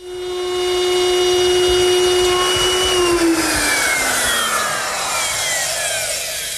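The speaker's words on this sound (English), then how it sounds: "to make it, I use my router, which is equipped with a V-grooving bit" A router fitted with a V-grooving bit cuts a groove along the edge of a wooden front stile for a Shaker wash stand, giving a loud, close, steady whine that sags in pitch and winds down.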